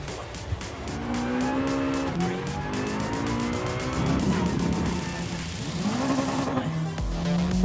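A 1998 Honda Civic Type R (EK) with a manual gearbox laps the Nürburgring in GT Sport, its engine note rising and falling through gear changes with intermittent tire squeal, steady and close throughout.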